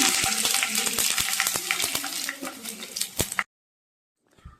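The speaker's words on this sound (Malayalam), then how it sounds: "ഒരു ടീസ്പൂൺ ഉഴുന്ന് ഒരു ടീസ്പൂൺ നല്ല ജീരകം ചേർത്ത് നന്നായി ഒന്ന് മിക്സ് ചെയ്യാം" Mustard seeds, urad dal and cumin frying in hot oil, a dense close crackle with sharp pops and a few stirring knocks, cutting off abruptly near the end before a brief faint sound.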